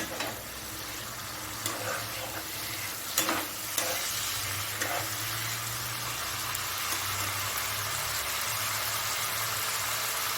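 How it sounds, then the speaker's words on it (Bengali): Pointed gourd and potato sauté with spices in a hot pan, a steady close sizzle with occasional scrapes and clinks of stirring running throughout, over a faint low hum. "দিয়ে মশলার সঙ্গে ভালো মতো আমি কষিয়ে দেবো।"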